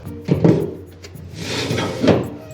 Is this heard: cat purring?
no